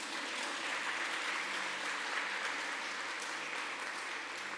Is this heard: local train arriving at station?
no